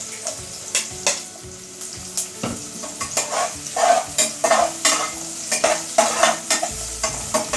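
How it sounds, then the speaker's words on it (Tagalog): Garlic frying and being stirred in a pan for goto, a close sizzle with rhythmic scraping stirs and clinks of the utensil. "Lagay ko na po yung ating garlic."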